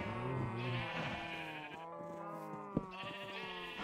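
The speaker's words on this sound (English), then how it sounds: "We've got the sheep. Hello, sheep." Sheep in a farming video game bleat in a few drawn-out, wavering calls close up, with a brief click partway through and no talking.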